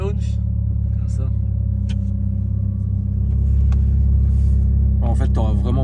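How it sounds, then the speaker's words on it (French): A car doing a hard launch start, with a loud, close engine rumble that builds as it accelerates, under excited talk from people inside. "le mieux c'est de faire un launch"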